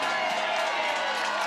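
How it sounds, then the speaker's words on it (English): A crowd at the Red Bull Rampage mountain bike event cheering in a dense, continuous roar of voices, fairly loud and sustained without a break. "Listen to the crowd here."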